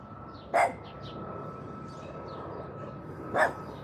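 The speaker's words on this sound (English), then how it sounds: "My dogs are out in the yard with me, so if you hear barking," Dogs out in a backyard give two short, distant barks a few seconds apart over quiet outdoor ambience with faint birdsong.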